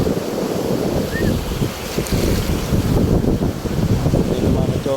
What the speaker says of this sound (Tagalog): May alon-alon pa oh.